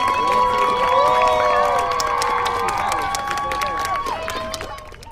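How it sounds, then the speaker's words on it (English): A crowd cheering and shouting outdoors along neighborhood streets in St. George, with high voices whooping and calling over a steady roar of excitement. "and friends of 7-year-old Emery Burrows lined the streets of her St. George neighborhood yesterday with signs and cheers."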